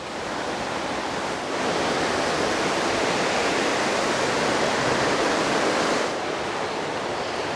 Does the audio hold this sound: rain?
yes